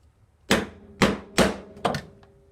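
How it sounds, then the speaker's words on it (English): A hammer strikes a metal punching tool four times, sharp and close, driving stitching holes through leather for an everyday-carry pouch, each blow ringing briefly with a short metallic decay. "And then I use my hammer."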